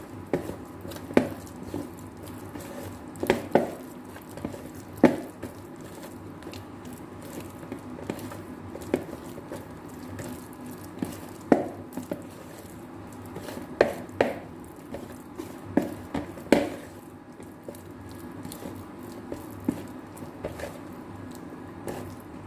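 Cakwe dough being stirred by hand after oil is mixed in, a soft wet squelching with irregular sharper clicks and taps from the bowl, steady and close, with no talking.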